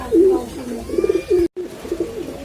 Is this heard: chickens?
no